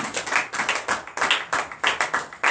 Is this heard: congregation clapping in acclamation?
yes